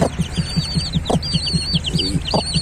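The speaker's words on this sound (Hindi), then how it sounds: "आज मैं आपको शो करवाता हूँ अपने मुर्गी और जो मैंने चूचे निकलवाए हैं उनके" An Aseel hen clucks in a steady low rhythm while her chicks, about 12-14 days old, peep in high, rapid chirps all around, close and lively.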